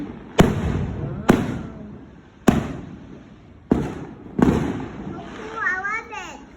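Fireworks go off outside, five sharp cracking bursts spaced about a second apart, with someone talking between them.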